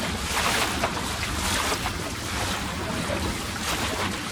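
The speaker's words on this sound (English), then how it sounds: "The wind's picked up, probably 8 to 10 knots now, but we've got to tack all the way back." Steady wind at about 8 to 10 knots while sailing a dinghy on a lake, a constant loud rush with buffeting on the microphone and faint water wash underneath.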